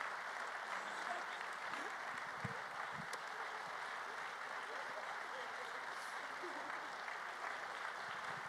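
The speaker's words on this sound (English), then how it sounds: "big round of applause to all of these folks as well" Sustained applause from the audience at a DrupalCon Denver 2012 closing plenary, even and continuous throughout, heard at a moderate distance.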